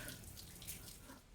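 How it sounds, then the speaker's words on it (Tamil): Water is poured over a motorbike before washing at home, a soft, continuous splashing and trickling that stays quiet throughout. "ஸோ ஃபஸ்ட்டு இந்த மாதிரி தண்ணி எடுத்து வண்டி ஃபுல்லாக ஊற்றிக்கோங்க."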